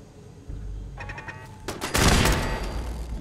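Gunfire in Fallout 4, aimed at a turret, bursts in as rapid, loud volleys that build to a dense, sustained barrage in the second half.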